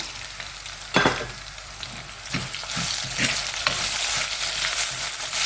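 Half a tomato drops into hot oil in a pan with a few soft knocks, and the sizzle swells and holds steady and close while a prawn and okra kuzhambu is being cooked.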